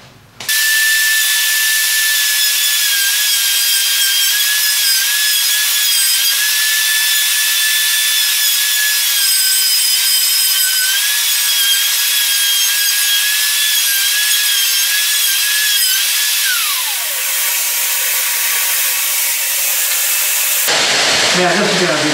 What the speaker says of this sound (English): I'm going to drill out a couple of these holes so at least I got some suction